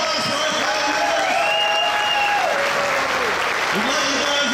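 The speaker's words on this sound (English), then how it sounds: "Can we get a huge round of applause for our family members?" A crowd at a Schuhplattler group gathering applauds and cheers three departing members, steady continuous clapping with whoops and voices layered over it.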